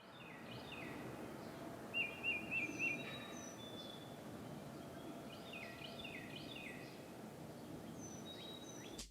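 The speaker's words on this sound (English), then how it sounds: "And then bird singing. This is an important one." Birds chirp and sing faintly in short scattered calls over a steady low outdoor hiss, sounding distant and soft throughout.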